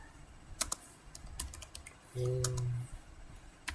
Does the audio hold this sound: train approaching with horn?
no